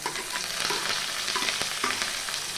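Small onions (shallots) crackle and fry steadily in hot oil with mustard seeds and cumin for a tamarind kulambu, a dense close sizzle with occasional stirring clicks and no voices.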